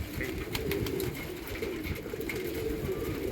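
Pigeons coo softly on a rooftop in winter, a low continuous murmur with faint flutters, quiet and close.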